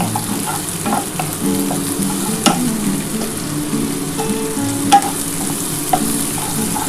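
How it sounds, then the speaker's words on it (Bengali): Garlic and onion frying in a pan for a dhaba-style chicken egg tarka, a close, constant sizzle with scraping stirs and occasional spoon knocks, no talking. "রসুন আর পেঁয়াজটা অল্প করে ভেজে নিই"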